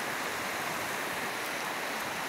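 A flooded river rushes in a dense, unbroken roar of churning water, loud and close throughout, with no voices or other sounds breaking through.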